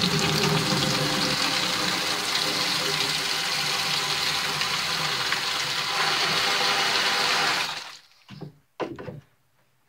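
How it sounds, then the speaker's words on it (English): Water runs steadily from a tap into a tub for washing a beaver tail with degreasing dish soap, a continuous splashing fill that cuts off near the end, leaving brief quiet handling noises. "add some water here."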